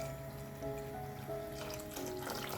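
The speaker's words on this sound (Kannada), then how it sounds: "ಆ ನೀರನ್ನು ಕೂಡ ಸೇರಿಸ್ಕೋಬೇಕು" Soaking water from greens pours into a cooking pot of greens, a soft, steady liquid trickle heard close by, running alone and fairly quiet throughout.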